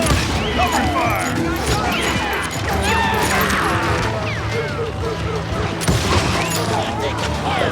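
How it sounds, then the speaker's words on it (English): Gunfire in Call of Juarez Gunslinger, a dense Old West shootout with rapid overlapping shots, cracks and ricochets throughout, loud and busy, with voices shouting amid the fusillade. "Cover fire!"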